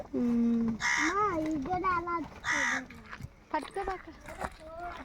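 Two loud, harsh caws ring out close by, spaced a second or so apart, amid people talking.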